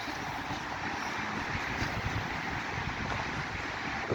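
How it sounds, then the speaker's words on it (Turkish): Strong wind roars steadily past the microphone outdoors in light rain, a loud continuous rushing buffet with no pauses. "Şu an acayip inanılmaz bir rüzgar var."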